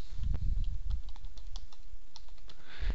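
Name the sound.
typing an IP address on a computer keyboard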